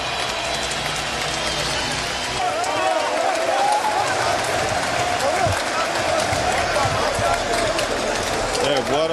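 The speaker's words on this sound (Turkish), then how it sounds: "Fenerbahçe seyircisi de Anadolu Efes'i alkışlıyor soyunma odasına giderken" Sustained crowd applause and cheering in a large indoor basketball arena at a Fenerbahçe–Anadolu Efes league final, steady and loud for the whole stretch, with a commentator talking over it.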